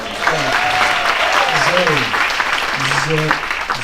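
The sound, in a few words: audience applause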